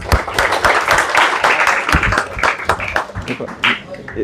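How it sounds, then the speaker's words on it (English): A group of students clapping together during a stress-management session: a burst of dense, uneven applause that is loud and close, with scattered claps continuing throughout. "So we'll do one clap for all of us."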